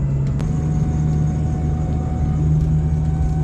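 A 5-speed Jeep XJ with about 315,000 miles cruises around the block, its engine a steady low drone and hum under continuous road rumble, heard from inside with no talk.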